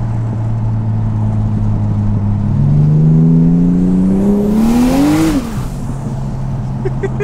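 A turbocharged Barra engine in a Ford EF Falcon revs loud and close, its steady drone climbing in pitch over several seconds and then dropping back to idle.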